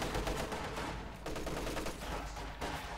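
Light machine gun fire in the World War II strategy game Company of Heroes 2, dense bursts of rapid shots crackling almost nonstop over a few seconds with no talk.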